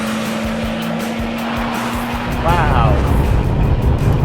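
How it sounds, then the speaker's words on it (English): A 2017 Porsche 911 Turbo S engine under overboost, first a steady tone, then a loud surge of engine roar with tire noise partway through, while a voice exclaims briefly. "push the Sport Response button for 20 seconds of engine overboost and aggressive shift calibration"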